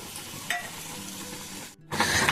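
Blender rinse water poured into a hot cooking pan, giving a steady sizzling, rushing hiss that drops out briefly and then returns louder, with no talk.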